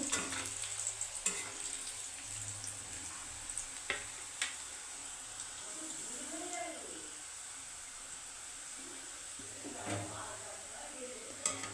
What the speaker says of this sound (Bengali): গাজরটা একটু সময় দিয়ে ভাজতে হবে